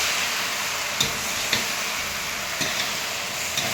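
Mixed vegetable shukto is stirred in a pan over lowered heat. A constant sizzling hiss fills the clip, with a few brief scraping strokes of the spoon at intervals.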